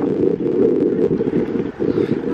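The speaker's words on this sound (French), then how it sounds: "il y a vraiment trop de vent là" Strong wind buffets the microphone in loud, rumbling gusts during a coastal outing in Canada, with a brief dip near the end before the buffeting resumes.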